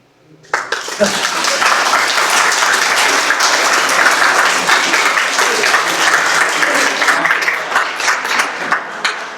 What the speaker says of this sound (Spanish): Un gran aplauso para él y nuestro agradecimiento.